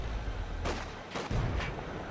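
Small arms fire in the World War II strategy game Company of Heroes 2 hits the rear armor of a Puma armored car: three sharp cracking bursts spaced about half a second apart over steady battle rumble.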